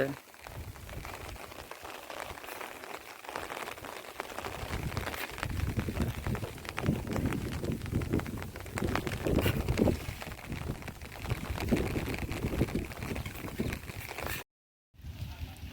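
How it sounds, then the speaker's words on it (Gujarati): Rain falls outdoors on a hillside near a temple, a steady broadband patter and wash that builds after a few seconds and holds before a brief dropout near the end. "બરોબર વરસાદ આવે છે"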